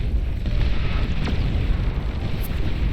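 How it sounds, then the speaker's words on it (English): A nuclear barrage in the strategy game Beyond All Reason produces a steady, heavy low rumble of distant explosions. It rolls on continuously without distinct sharp blasts and has a windy, roaring texture. "More and more players falling to the nuclear barrage here."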